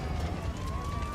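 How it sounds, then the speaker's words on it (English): Emergency sirens from fire trucks and ambulances racing to a crash site of a burning passenger airliner, a steady wailing tone sounding loud and continuous over low rumbling noise. "Fire trucks and ambulances race to help them."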